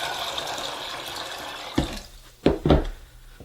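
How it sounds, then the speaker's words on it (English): Fresh water poured over rinsed, soaked garbanzo beans in a kitchen, a steady rushing pour that stops, followed by a few brief splashing sloshes up close. "I want to put enough fresh, clean water over the top to fully cover them"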